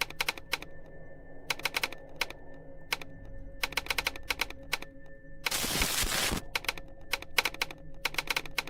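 Keys clatter on a computer keyboard in quick bursts and scattered single strokes during a word-typing game, close and clear, broken midway by a short loud burst of noise, with no one speaking.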